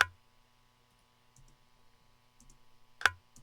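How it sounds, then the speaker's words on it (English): Sparse percussion hits in a beat: a few soft clicky taps and a sharp, louder click near the end over a faint sustained tone, quiet and isolated without speech. "I added this here, which is that percussion sound."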